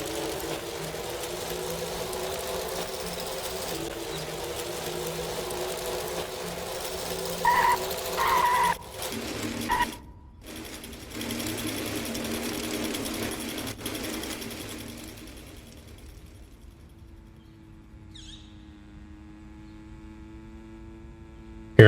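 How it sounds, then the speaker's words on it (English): Small dirt bike motorcycle in the Money Simulator Brokeville video game, a steady buzzing engine drone with a faint hum beneath, holding even and then thinning out toward the end. "You hear that motorcycle, little dirt bike?"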